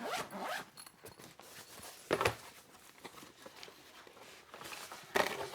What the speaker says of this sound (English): It comes in a rather nice nylon pouch with a zipper closure